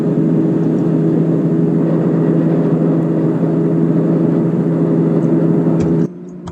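A Class 158 diesel multiple unit accelerates in the OpenBVE train simulator game, giving a steady, loud engine drone with a constant hum that holds for about six seconds before dropping away abruptly.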